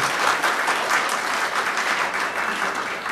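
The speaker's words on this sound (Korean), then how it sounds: "박수 한번 서로에게 주시기 바랍니다." A room full of people applauding at a Korean political party meeting in Daegu, continuous even clapping at full volume without a break.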